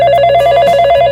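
A telephone rings in a cartoon comedy, a loud, close, continuous electronic trill that fills the brief moment on its own.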